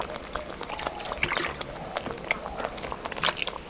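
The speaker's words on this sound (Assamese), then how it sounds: "অকণমান পানী দিম ইয়াতে" Water pours into fried tomato paste in a cooking pan for paneer makhani, giving a brief close splashing trickle with crackly bursts over a quiet background.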